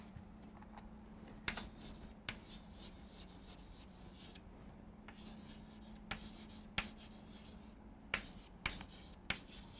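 A lecturer writing on a board during a class, giving faint scattered taps and scratchy strokes heard at a distance over a low steady room hum.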